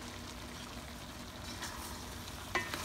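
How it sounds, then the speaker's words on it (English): Pork simmers at a boil in a pot for Filipino tinumis, giving a steady close bubbling and sizzling hiss with a small clink near the end and no voices. "It's boiling now."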